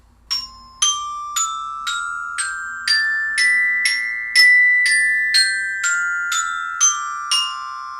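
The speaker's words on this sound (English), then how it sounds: "Then we play the orchestra bells." Orchestra bells struck with mallets, a rising sequence of about fourteen bright metallic notes at an even, unhurried pace, each ringing on into the next, close and clear in a quiet room.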